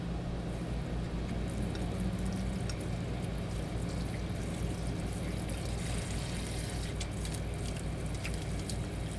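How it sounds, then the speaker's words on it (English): Cold tap water running steadily over thawing frozen food in a boat galley sink, a continuous close hiss and trickle holding even for the whole stretch, with no talk. "I'm going to go ahead and run this under a little bit of cold water"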